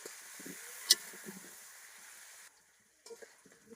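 Potato and papaya frying in a pan over a clay stove, stirred after turmeric and salt go in: a soft, steady sizzle with light scraping and one sharp clink, stopping abruptly partway and then returning faintly.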